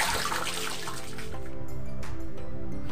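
Water gushing steadily from a 125 watt electric water pump running on an inverter, a continuous, loud, broadband rush with no voices.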